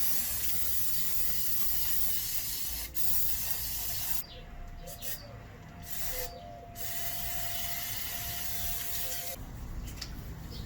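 A spray can sprays paint onto a cupboard in a long continuous hiss, cut by a few brief pauses and then resuming, close and fairly loud with no talking.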